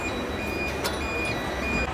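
Inside a metro station, a train rumbles steadily with a low mechanical roar, and a thin electronic beeping tone sounds repeatedly over the noise as it approaches the platform.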